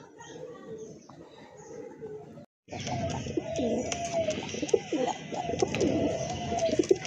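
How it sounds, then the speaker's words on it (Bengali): Blue Rajgolla pigeons coo softly and repeatedly close by, with a brief silent gap early on, then steady cooing continues with occasional chirps in the background. "আরেক জোড়া কবুতর এটা হচ্ছে আপনার রাজগোল্লা কবুতর"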